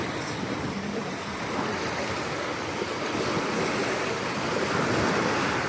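Caribbean surf at Playacar beach in Playa del Carmen, Mexico, a steady wash of breaking waves mixed with wind rumbling on the microphone, swelling slightly louder toward the end.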